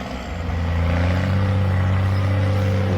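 Alvis Stalwart amphibious military truck driving past, its engine droning steadily and loudly with a deep, sustained hum that builds slightly at the start and holds.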